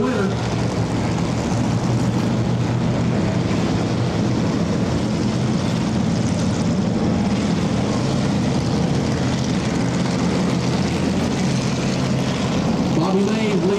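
Hobby stock race cars roaring around an asphalt speedway oval at Volunteer Speedway during a feature race, a steady, dense engine drone that never lets up, with a race announcer talking over it throughout.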